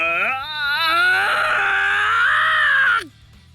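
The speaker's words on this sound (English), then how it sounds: "the student's eyes pop open and he screams as he scratches at the symbol on his face" A male student screams in the video game 9-nine-, a single loud, sustained, strained cry lasting about three seconds before cutting off abruptly, with quiet background music underneath.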